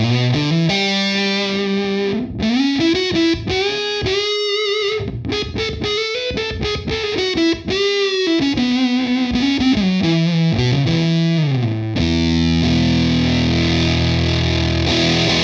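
Distorted electric guitar riffs through a Sonicake Tone Group pedal EQ with highs cut, mids scooped and heavy boosted bass, playing a loud continuous run of chords and single notes, ending on a sustained low chord.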